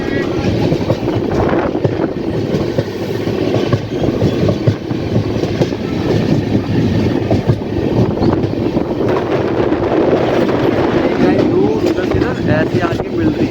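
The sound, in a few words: Purushottam Express train running at high speed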